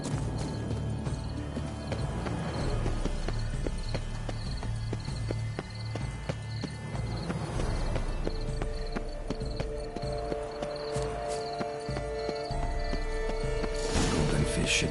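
Horse hooves in the Blood and Wine game clip-clop steadily at a trot through large gardens, loud and close and continuing throughout, under faint background music.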